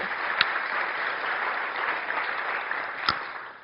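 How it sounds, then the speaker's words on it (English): Audience applause for a woman named Marcia at a closing event, a steady wash of clapping from a crowd that holds evenly for several seconds, with a couple of sharper claps standing out near the start and end. "So let's give Marcia a round of applause as well."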